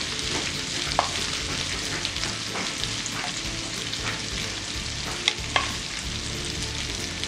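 Beef frying in a pan on a layer of fried potatoes for a Mexican-style asadito de res, a dense, steady, loud sizzle throughout with a few brief clicks and pops, close up.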